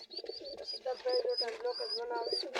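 Pigeons cooing and fluttering softly in a loft, with overlapping calls and some faint voices in the background.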